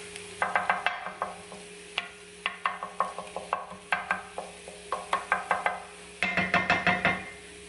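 A thoroughly cooked egg fries in a pan, giving a soft steady sizzle broken by a run of sharp, closely spaced taps and scrapes from a utensil in bursts throughout.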